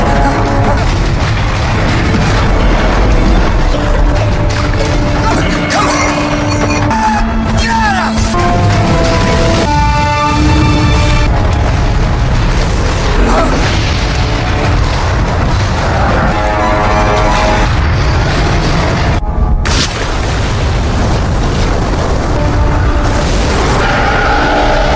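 A loud movie explosion bursts amid dense cinematic sound, with booming crashes, debris and rumble as a room above is blown apart, layered with music and effects throughout.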